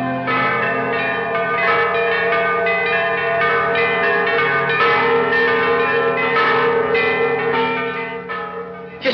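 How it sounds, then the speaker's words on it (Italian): Church bells ring out for a wedding, several bells pealing in a continuous overlapping clangour that carries on for the whole stretch without voices. "Perché queste campane? È il segnale del matrimonio."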